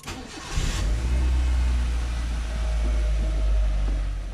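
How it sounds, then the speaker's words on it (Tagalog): A car engine cranks briefly and catches, then settles into a steady low idle with a slight rise in revs, nearby and with no talking. "Start natin yung makina."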